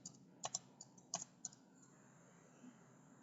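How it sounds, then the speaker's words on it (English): Quiet typing on a computer keyboard, a handful of sharp, irregular key clicks over a few seconds against a low background hum. "Now let me just type it like this"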